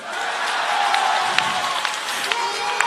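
A crowd at a Jubilee political rally at Ngong Racecourse applauding, a steady wash of clapping and crowd noise with a few sharper claps on top.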